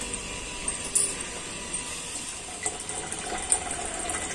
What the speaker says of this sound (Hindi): देखिए अभी मैं पानी भर लेती हूँ